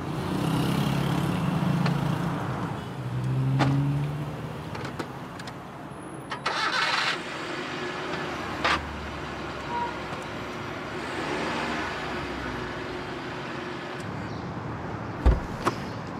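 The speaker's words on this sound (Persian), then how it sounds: "شما یه مقدار ماشینتون بکشین عقب." A car's engine idles and revs as it is pulled backward a little on a quiet street, loud and steady, with a few short knocks and clunks and no talking.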